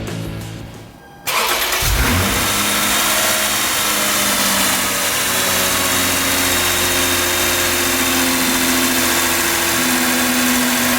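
A 2007 Lexus IS 350 fitted with a carbon fiber intake cranks briefly and fires up. It settles into a loud, steady high idle that holds for several seconds.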